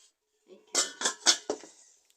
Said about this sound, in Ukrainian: Тут у нас більше каструлі йдуть.